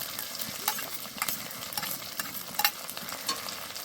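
Ginger garlic paste frying in a pan, stirred steadily with a soft continuous sizzle and repeated scraping clicks, fairly quiet and close, no voices.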